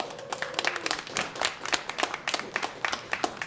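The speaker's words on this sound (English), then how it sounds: "Can I get a round of applause?" Audience applause at a Saturday poetry event in a Boston Public Library café: scattered, individually distinct claps from a modest crowd, crisp and fairly close, rising and falling unevenly over a few seconds.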